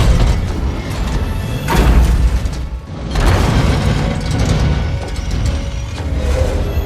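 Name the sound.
bomb explosion in video game Halo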